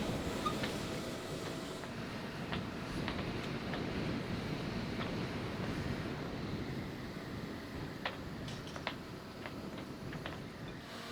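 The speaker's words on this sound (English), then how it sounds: "It is very windy today" Strong wind blows across a sailboat while its rig is being lowered. A low, faint, continuous rushing is broken by occasional sharp knocks and clicks of gear, and no one speaks.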